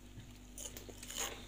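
A crispy fried cauliflower fritter is bitten, giving a few quick crunchy bites close to the mic, with the loudest crunch near the end.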